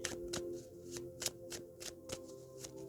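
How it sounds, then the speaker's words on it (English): Tarot cards being shuffled by hand, giving about nine crisp riffling snaps at a steady rhythm, close and clear over a faint hum, with no talk. "I'm just going to get out a bunch of cards so I can just speak"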